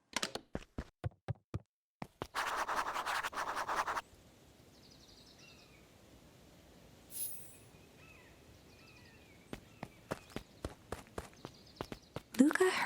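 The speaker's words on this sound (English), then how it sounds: "Luca heard a group of footsteps approaching." Footsteps of a group approaching in the game Beacon Pines, with sharp taps and knocks in bursts, a burst of scratchy steps, a quiet stretch, then renewed quick steps near the end.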